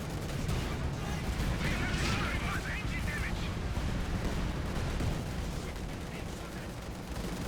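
Dense tank battle gunfire and explosions in a real-time strategy game with Soviet and German forces, a continuous loud wash of shots and blasts throughout.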